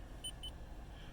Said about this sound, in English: once you hear the beep, you'll see the air conditioning filter reset message show up